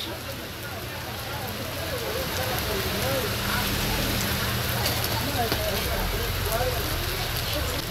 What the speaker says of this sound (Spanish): Porque empezó a llover.